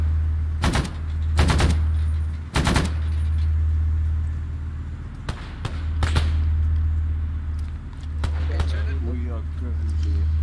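Gunfire in the Arma 3 Vietnam War mod Unsung: several loud, sharp single shots spaced a second or two apart, followed by a quicker pair and a faint rattle, over a steady low engine-like rumble, with voices talking.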